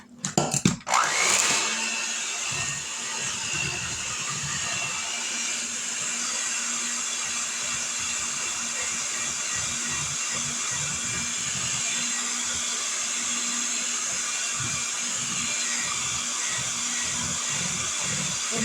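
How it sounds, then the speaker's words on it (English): Electric mixer blending a peanut butter lasagna mixture until smooth: a few brief clunks as it starts, then a loud, steady, high whirring drone that runs unbroken for about eighteen seconds, with no talk. "We're just going to mix this up until there's no lumps in it"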